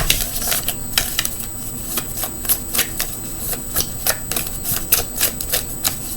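Tarot cards being shuffled by hand give off an irregular run of quick, crisp riffling clicks and taps. The sound is close and steady over a soft room background, with no talking.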